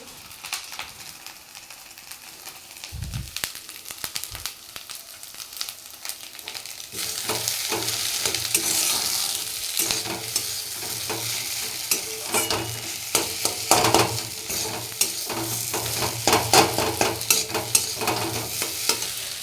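A coconut powder mixture is stirred in a hot pan, with steady sizzling frying noise and repeated scraping strokes of a utensil, close and fairly loud, growing denser after the first few seconds.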